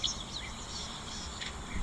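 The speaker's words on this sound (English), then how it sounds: "Oh, there's the European bee eaters calling." European bee-eaters and a green-backed camaroptera call at a waterhole, faint high chirps and trills carried over a constant bed of insect buzz and outdoor ambience, distant and brief.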